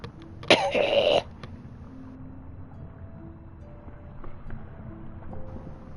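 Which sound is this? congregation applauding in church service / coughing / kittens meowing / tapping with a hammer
coughing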